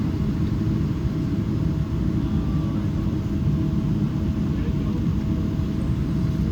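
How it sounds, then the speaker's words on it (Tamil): Deep, steady rumble of jet engines inside an Emirates Boeing 777-300ER cabin at Dubai airport, a continuous low roar without pauses as another flight lands nearby. "அடுத்த ஃப்ளைட் லேண்ட் ஆகுது."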